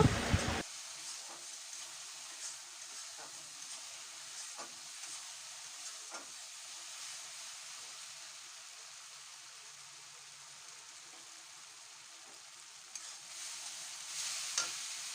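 Ground mustard paste masala frying in a pan for a fish curry while being stirred, a soft steady hiss with occasional light scrapes and taps, faint and without talk.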